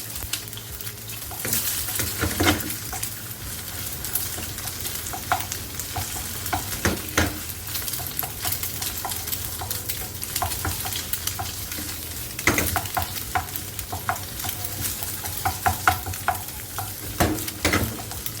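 Eggs scrambled with a little salt in a hot frying pan give a steady loud sizzle, with frequent scrapes and clinks of a spatula stirring against the pan, continuing without pause and with no voices.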